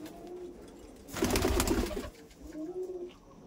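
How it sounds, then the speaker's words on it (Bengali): Pigeons coo softly in a loft room, with a loud rustling burst in the middle like flapping wings, then more gentle coos nearby. "আর এই পায়রাগুলো তো কেমন পায়রা আপনারা হয়তো দেখেই এখন লাফালাফি করছেন"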